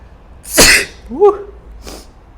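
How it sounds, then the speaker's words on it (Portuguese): A single sharp, close sneeze bursts out, followed by a brief vocal squeak and a soft breathy exhale. "Vocês já estão se acostumando a eu espirrar 3 ou 4 vezes."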